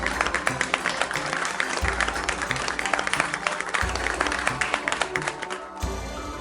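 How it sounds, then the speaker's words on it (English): Steady, dense applause from a crowd, continuous and fairly loud for several seconds with a sharper dropout near the end. "give a round of applause."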